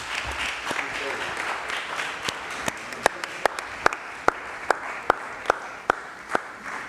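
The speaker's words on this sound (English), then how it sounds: "you deserve a round of applause" Council meeting audience applauding an honoree: a crowd's applause runs under voices, then gives way to a series of single sharp claps spaced about half a second apart.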